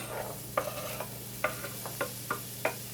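Onions frying in a tablespoon of melted butter in a fry pan, a low sizzle under a series of distinct spatula scrapes and taps that come every half second or so.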